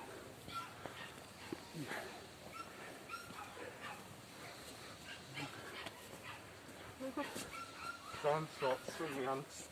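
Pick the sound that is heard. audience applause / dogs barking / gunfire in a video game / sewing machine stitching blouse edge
dogs barking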